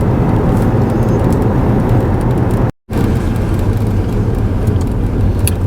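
A car driving past Blind Pass on Sanibel Island, Florida, heard from inside as a steady, loud road and engine rumble. It is broken once by a brief dropout in the middle, and no one speaks.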